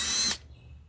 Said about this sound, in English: I'm having to drill the remains of this out